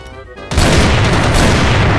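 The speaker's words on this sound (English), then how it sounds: "Hala! Flash bomb!" A flash bomb detonates in Crossfire, a sudden loud blast after a quieter moment, followed by a sustained roaring, ringing wash of noise that fills the rest of the moment.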